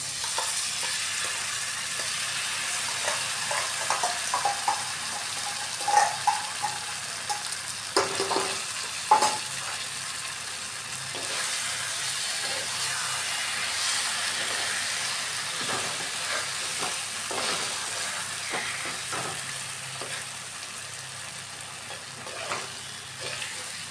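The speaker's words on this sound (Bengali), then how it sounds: "এখন ভালো করে মিক্স করে ভাজা করতে লাগবে এটাকে।" Banana peel paste fries in a pan while being stirred, a steady close sizzle under occasional spatula scrapes and clicks that runs on without pause.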